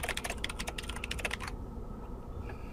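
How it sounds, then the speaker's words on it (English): Rapid clicking of a computer keyboard during an online Magic: The Gathering multiplayer game, fast close keystrokes for a second and a half, then stopping, leaving quiet room hum. "are you furiously typing on your keyboard?"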